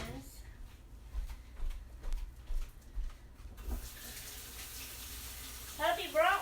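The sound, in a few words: washing hands under running tap water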